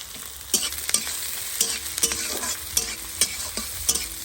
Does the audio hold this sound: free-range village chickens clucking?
no